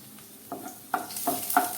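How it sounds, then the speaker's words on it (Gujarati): Chopped garlic cloves hitting hot oil for a fenugreek-leaf (methi bhaji) dish give a soft, steady sizzle, with several clear stirring scrapes and clinks spaced across the moment. "તેલ ગરમ થાય એટલે આપણે ચાર પાંચ લસણની કડીના ટુકડા કરી લીધા છે તેને આપણે એડ કરી દઈએ"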